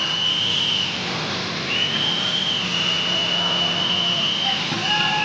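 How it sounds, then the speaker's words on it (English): A referee's or fan's whistle at a wrestling show, blown in long shrill repeated blasts over a noisy arena crowd, with faint voices underneath. "He has not stopped blowing that whistle."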